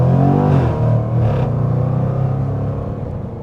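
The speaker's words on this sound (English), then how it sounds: "push it a little bit right here on this side road to kind of check out the acceleration" A 575 hp 2025 Jaguar F-Pace SVR accelerates hard along a side road, its engine a loud, steady rumble with rising revs close by throughout, and no talking over it.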